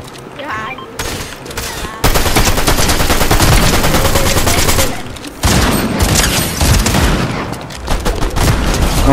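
Rapid NPC gunfire in a Fortnite match, with loud sustained bursts of automatic shots that pause briefly around five seconds and then resume, and voices talking over the shooting.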